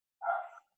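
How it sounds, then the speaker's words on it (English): A single short bark from a dog somewhere in the home, fairly faint and isolated against near silence. "That's my dog barking"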